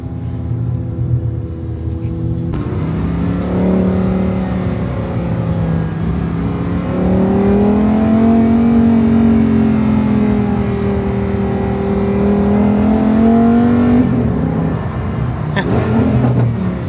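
A loud car engine drones and rises in pitch as it revs, holding a throaty, sustained roar close by.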